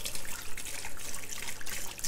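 Cold water runs from a tap in a kitchen, a close, continuous splashing gush with uneven surges and bright spattering, no talking over it.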